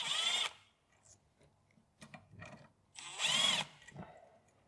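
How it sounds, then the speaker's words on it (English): A power tool removes two 10mm bolts from the boost solenoids on a Mitsubishi Evo X during an ECU install. Two short, loud whirring bursts, one at the start and one near the end, with faint clicks and handling noises between. "I'll remove the two 10mm bolts holding on the boost"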